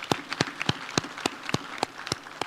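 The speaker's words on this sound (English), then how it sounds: "please clap for them, please" At a university graduation ceremony in Busia, scattered audience members clap in a loose, irregular rhythm, about a dozen sharp individual claps spread over two and a half seconds rather than a full ovation.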